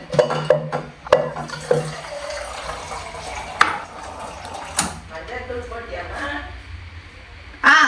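Water is poured into a pot while making chicken biryani in a home kitchen, a close splashing, filling sound that rises and falls over several seconds, heard under conversation with a few knocks and clatters.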